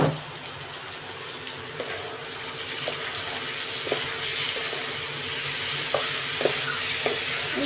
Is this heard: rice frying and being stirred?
yes